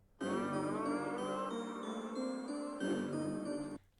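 A song played back slowed down in CapCut, its music sounding drawn out, with sustained tones and a slightly smeared character, running briefly on its own between pauses with no voice over it.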